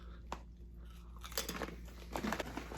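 Crunchy, crinkly queso-flavored chips are chewed close up, giving a few sharp bites followed by quick bursts of crisp crunching, with quiet pauses between them.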